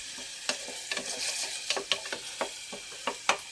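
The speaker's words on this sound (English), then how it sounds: "Throw in the tomatoes." Tomatoes sizzle and fry in a pan over onions already browned, with a steady crackle broken by sharp stirring scrapes and clicks at an uneven rhythm, close and moderately loud with no talking.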